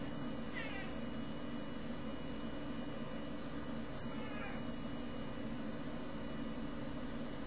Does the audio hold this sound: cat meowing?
yes